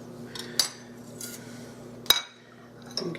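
A spatula works a piece of moist cinnamon coffee cake loose from its pan, making a few sharp metallic clinks and scrapes spaced apart over a quiet background.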